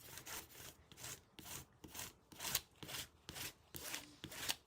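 Steady back-and-forth rubbing on the spine of an old book under restoration, covered with Japanese tissue while being rubbed down, close and soft with an even rhythmic stroke and no talking.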